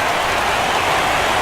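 Steady rain falling throughout a baseball game, a dense even hiss of drops on surfaces with no break, fairly loud and close, no voices present.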